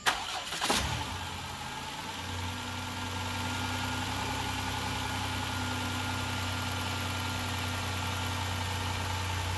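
Starter cranks briefly on a 2001-2010 Chrysler Town & Country / Dodge Grand Caravan minivan fitted with new spark plugs and wires, then the engine catches and settles into a steady, close idle hum with no talking.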